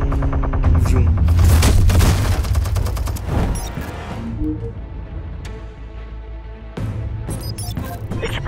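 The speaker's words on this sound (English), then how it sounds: "Sentry gun." A sentry gun fires in the Batman Telltale Series game, a loud rapid stream of close mechanical shots with heavy booms for several seconds, easing off, then another burst near the end.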